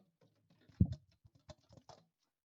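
Saxophone keys clicking and padding right beside the microphone, a quiet scatter of soft mechanical taps and thumps with one fuller knock, with no tone being played.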